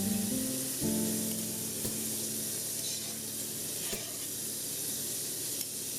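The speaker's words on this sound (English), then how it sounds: "we're going to go ahead and brown the beef" Beef browning in a pot for a Somali pasta sauce (suugo suqaar) makes a soft continuous sizzle and hiss, with a low tonal hum fading over the first second; fairly quiet, no voices.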